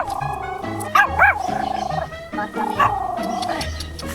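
A small dog on a street in Bolivia gives a few short whining, yelping sounds near the mic, with a couple of louder pitched cries in the middle, mixed with ambient noise.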